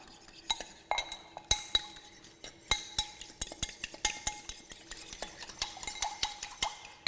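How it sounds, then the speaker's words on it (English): Ingredients are stirred together in a bowl, and a utensil makes quick, close clinks and scrapes in an uneven but steady rhythm. "I'm going to put a little bit of this in at a time, just to mix it through"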